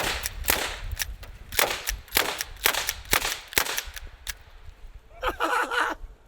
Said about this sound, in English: Now how about a little bit of Slam fire into these windshields?